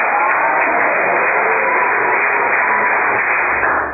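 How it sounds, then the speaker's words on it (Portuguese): A church congregation clapping at a service, a continuous dense wash of hand claps heard loud and muffled, as though through a bandwidth-limited recording, steady from start to end. "Quem bate mais palmas agora, Jesus?"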